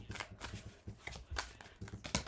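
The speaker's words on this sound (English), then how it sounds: "these do not want to shuffle today. I'm shuffling off camera" Tarot cards are shuffled by hand close to the microphone, a quick run of soft riffling bursts and papery flutters at an uneven rhythm, fairly quiet and with no talk.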